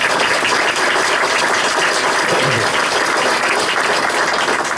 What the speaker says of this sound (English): I'll give that another round of applause.